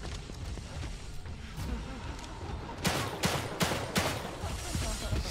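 Rapid gunfire in the horror game The Evil Within 2, a series of four or five loud, closely spaced shots fired at a boss over a rumbling background, with no talking during the volley.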